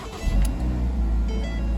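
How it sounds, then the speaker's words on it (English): A 2010 Ford Focus SEL with about 147,000 miles and a leaking exhaust idles close by, a loud steady low rumble with a slight rise near the start and no talking. "It sounds like the exhaust is leaking."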